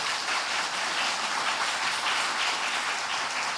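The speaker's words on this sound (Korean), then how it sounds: "환영의 박수로 우리 함께 모시겠습니다." Welcoming applause from a church congregation at an afternoon praise service as a guest pastor, a seminary president, comes up to preach; steady, dense clapping fills the room evenly throughout without a break.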